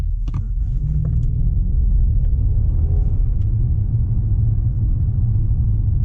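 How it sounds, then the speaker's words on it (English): Mercedes S500 L 4Matic V8 from a 2014 S-Class pulling away from a green light, a steady deep low rumble filling the cabin throughout with a few faint clicks early on. "the V8 just wakes up so fast"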